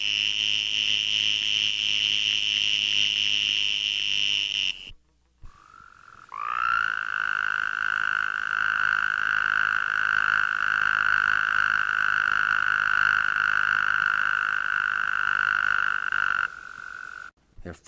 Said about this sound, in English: This is a call of the little green toad,